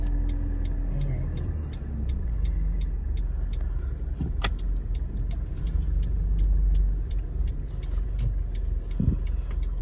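Cars idle and move through a dim mezzanine parking garage, a steady low engine rumble echoing in the enclosed space, with regular faint ticking clicks and a couple of brief sharper knocks.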